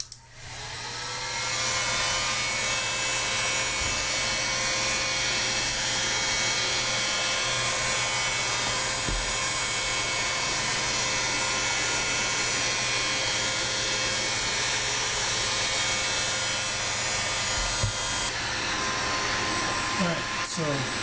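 A heat gun or similar heating tool blows a steady, loud whirring hiss while warming flattened PVC pipe for a youth recurve bow, running continuously with only slight variation and no talk.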